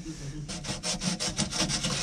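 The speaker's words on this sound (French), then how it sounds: "on ponce légèrement à l'intérieur aussi." Rhythmic sanding strokes rub lightly inside a boat seacock fitting during haul-out work, a rapid series of close, raspy back-and-forth scrapes that start after a quiet half second, with no talking.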